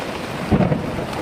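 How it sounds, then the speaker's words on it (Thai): Heavy rain pours on a tent during a thunderstorm, a dense steady hiss with a low rumbling swell midway, close and alone. "แบบกำลังเต็มที่เลยนะฝน"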